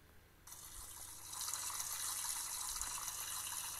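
A shower starting and running with dirty water, a continuous hiss of spray that begins suddenly, swells louder after a second and then keeps a steady gushing rush, heard close with no voices.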